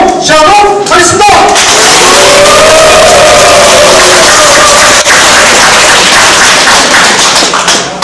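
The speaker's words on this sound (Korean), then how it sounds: "참석하신 분들의 힘찬 박수와 연호로 시작하도록 하겠습니다" Loud, dense applause from a crowd of workers opening an outdoor press conference in the eastern South Jeolla region, steady sustained clapping with a few sharp thuds and some voices mixed in, holding strong throughout.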